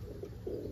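Soft, low cooing of pigeons in a loft during heavy molt, a couple of faint murmuring coos against quiet background hum.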